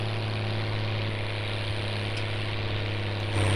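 Swaraj 855 tractor engine in Farming Simulator 19, a steady low droning idle with a strong bass hum that holds evenly throughout and grows slightly louder at the end.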